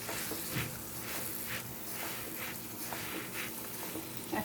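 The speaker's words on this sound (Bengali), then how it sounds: "বাটারটা দিয়ে এরকম নিচে দিয়ে দিব, দিয়ে এটাকে একটু বাটার দিয়ে ভাজবো" Sandwich bread frying in a little butter in a pan makes a soft, steady sizzle, with a few brief scraping or stirring touches along the way.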